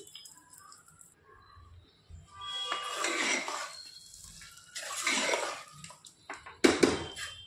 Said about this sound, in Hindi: बघू शकता ही फोडणी मी आता सांबार राईसमध्ये टाकून घेतली। व्यवस्थित मिक्स करून घेते।